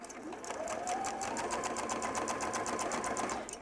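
A sewing machine stitching a straight seam to mend a hole in a pillow, a steady rapid whirring hum with its motor pitch rising as it speeds up, running continuously for about three seconds up close.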